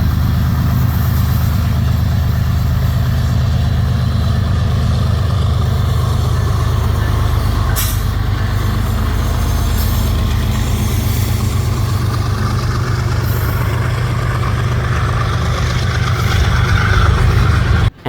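Freight train locomotives pass close by with a loud, steady, low diesel rumble and engine drone that holds for the whole stretch, a brief sharp clank partway through, then cuts off abruptly.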